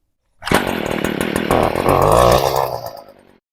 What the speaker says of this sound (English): And then start the weed eater up.